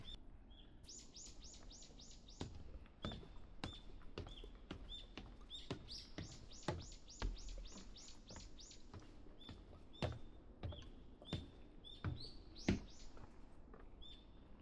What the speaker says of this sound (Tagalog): Yung tunog ng mga ibon.